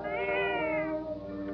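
A single long, drawn-out cat meow, loud and close, with a rich harmonic tone that rises slightly and then slowly falls, with no voices over it.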